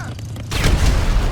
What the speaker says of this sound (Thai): ก็คือเราจะต้องใช้ระเบิดนะครับผม นี่แล้วก็ทำระเบิดปิงปองมาละ